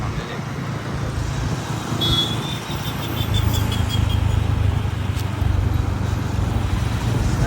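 A car drives along a road, heard as a steady low engine and tyre rumble that swells slightly partway through, with no other distinct sounds on top.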